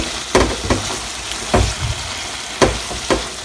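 Kerala-style chicken curry bubbles and sizzles in an uncovered pan, with a steady frying hiss broken by several sharp knocks and scrapes of a spoon against the pan, close by.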